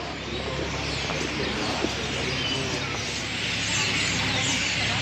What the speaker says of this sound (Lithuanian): Labai daug paukščių, jie čia gal nakvot susirenka. Dideliais būriais toka. Ir čirškia.